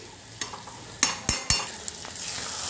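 Dried fish curry with potato and eggplant being stirred in a pan, soft sizzling under several sharp spatula knocks and scrapes against the metal, close and fairly quiet, no talking.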